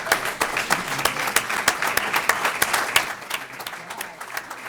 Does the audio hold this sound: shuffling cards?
no